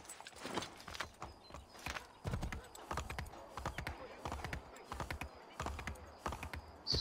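A horse in the video game Assassin's Creed III clip-clops in a quick, steady hoofbeat rhythm, close and fairly distinct, with faint background sounds between the strikes.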